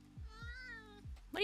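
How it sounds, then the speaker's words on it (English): A small cat meows once in a drawn-out, rising and falling cry, fairly close and clear, with low thumping bumps around it and a sharper noise starting right at the end. "Did you say meow?"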